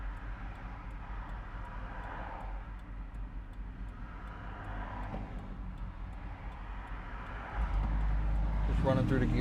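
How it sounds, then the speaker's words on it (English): The engine of a 1991 Chevrolet Blazer truck idles smoothly with a low, steady rumble, then rises in loudness near the end; no one speaks. "Here we are at idle. Idles real nicely."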